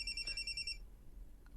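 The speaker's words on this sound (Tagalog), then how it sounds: "imong cellphone. Gibagting." A cellphone rings with a short burst of rapid repeated electronic trills, then stops, leaving quiet room tone in an indoor scene.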